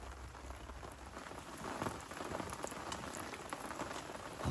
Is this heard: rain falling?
yes